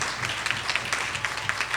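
A crowd at a high school debate final applauds the Aquinas College team, a brief burst of fairly faint, scattered clapping lasting about two seconds.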